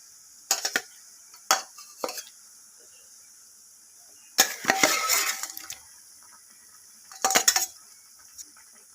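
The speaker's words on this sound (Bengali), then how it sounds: "এখন আমি ভেজে রাখা মাছগুলোকে এর মধ্যে অ্যাড করে দেব একে একে" Fried rohu-style bata fish pieces go one by one into a bubbling gravy in a pan, heard as a few separate clinks and splashy clatters of utensil on pan with quiet gaps between.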